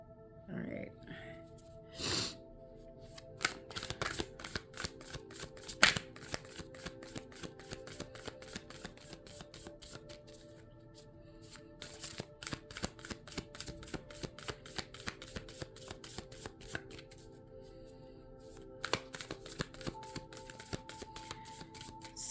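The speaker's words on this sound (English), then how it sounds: "The matte cardstock, just the sound of the shuffling, the, you know, the flexibility of the cards" Matte cardstock tarot cards shuffle at close range for a long stretch: dense rapid riffles of flexing, snapping card edges come in repeated bursts with short pauses, some soft breaths and a few brief murmurs in between.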